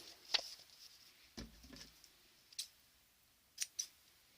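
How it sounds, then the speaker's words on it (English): Sharp fabric scissors snip several times in a quiet room, crisp isolated cuts with pauses between, ending in a quick pair of snips. "These are my fabric scissors, so they're super sharp."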